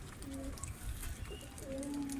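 Dönek and dolapçı pigeons coo softly in a short series of low calls under faint background noise, fairly close and quiet.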